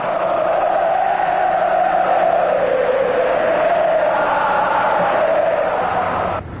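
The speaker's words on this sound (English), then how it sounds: "Football matches across Brazil were stopped for a minute's silence yesterday as the crowds chanted Senna's name" A large football crowd in a Brazilian stadium chants a name in a steady, sustained roar, heard from a distance and continuous throughout.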